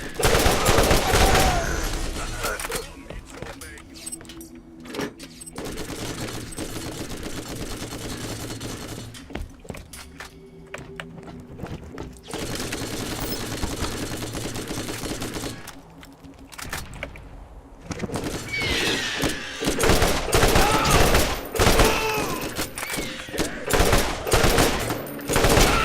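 Rapid bursts of gunfire from a Borderlands shootout, loud and near, with sustained automatic fire broken by short pauses and heavier volleys near the end.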